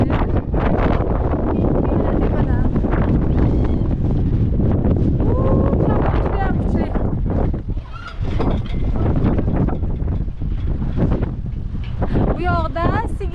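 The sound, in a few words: strong wind blowing at a cattle farm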